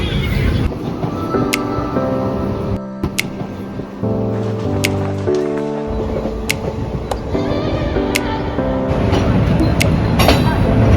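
Passenger train running between Palakkad and Coimbatore, heard from inside a nearly empty carriage as a loud, continuous rumble with rhythmic clicks and a few sharp squeals over the whole stretch.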